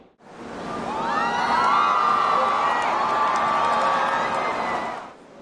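A crowd of football fans cheers and whoops loudly and steadily at a Bayern Munich training session, a sustained roar with shrill high voices rising and falling before fading at the end.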